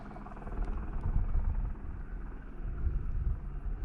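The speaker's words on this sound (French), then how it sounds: "il y a l'hélico là-bas, il est au niveau de la barre rocheuse" A helicopter flies near a rocky ridge on a mountain, its rotor making a distant, uneven low rumble that swells and fades, mixed with wind noise.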